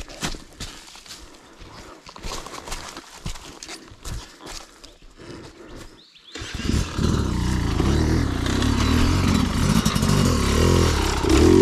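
Dirt motorcycle climbing a slippery, leafy, rocky ridge, its engine quiet and intermittent at first, then roaring loud and steady under heavy throttle for the last several seconds.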